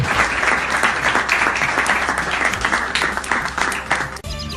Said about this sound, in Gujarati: જોરદાર તાળીઓ થઈ જાય ધરમપુર માટે